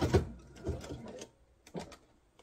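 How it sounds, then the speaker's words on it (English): A sewing machine stitches across an apron casing and then reverses to reinforce it, giving short whirring bursts separated by pauses, fairly close and moderately quiet, with no talking. "I'm going to stitch over it and then reverse to reinforce it."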